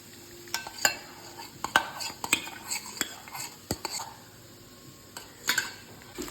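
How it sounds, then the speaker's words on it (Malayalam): Eggs are beaten for a broccoli dish, with sharp utensil clicks and taps against a bowl coming in irregular close bursts and light scraping in between. "അതിലേക്ക് നമുക്ക് നമ്മുടെ അടിച്ച് വെച്ചേക്കണം മുട്ട നമുക്ക് അടിക്കാം"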